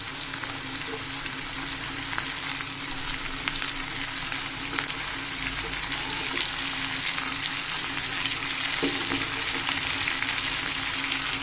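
Onions and three large tomatoes frying in oil, a steady, dense sizzle that holds level throughout, close and continuous with no voices.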